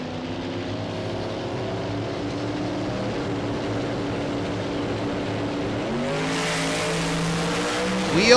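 Street car at a drag strip in Las Vegas during a Street Car Super Nationals run, a steady loud engine drone with rising harmonics as the car accelerates, growing brighter and louder toward the end.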